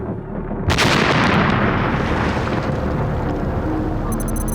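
A 2,000-pound suicide truck bomb detonates at an American embassy: a sudden sharp blast followed by a loud, sustained roaring rumble of debris and noise that fills the whole stretch.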